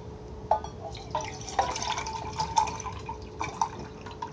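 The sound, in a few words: pouring water into a tin cup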